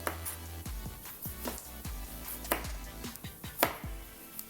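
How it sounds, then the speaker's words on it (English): Tomatoes chopped into chunks with a knife on a cutting board, a run of about a dozen uneven thuddy knocks, close and fairly quiet, no one speaking. "I'm just cutting it into manageable chunks so that it can cook down."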